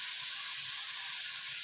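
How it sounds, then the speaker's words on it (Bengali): Potatoes sizzle in hot oil in a pan, a steady bright hiss that runs evenly throughout, fairly quiet and close, with a small clink near the end. "প্রথমেই আলুটা ভেজে নেব।"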